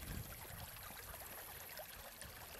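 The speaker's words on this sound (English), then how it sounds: "It's Bridge Creek again entering into the lake." Bridge Creek trickles into a low lake in Oregon, a faint, steady rush of running water heard alone and from a short distance.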